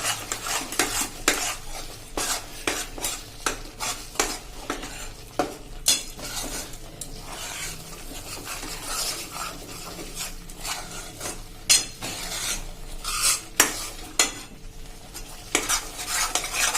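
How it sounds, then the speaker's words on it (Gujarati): Jaggery mohanthal batter with milk stirred continuously in a pan over a low flame, with a spoon scraping and clattering against the metal in a steady rhythm of sharp taps and grinding strokes, close and loud without talk. "ગેસની ફ્લેમ સ્લો જ રાખવાની છે, અને કન્ટિન્યુ ચલાવતા રહેવાનું છે"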